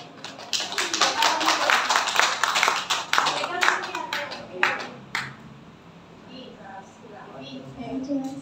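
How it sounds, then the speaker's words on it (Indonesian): An audience at a humorous Indonesian religious lecture claps hands in a dense burst for about five seconds before it trails off into a few scattered claps and a voice. "Tepuk tangan dulu"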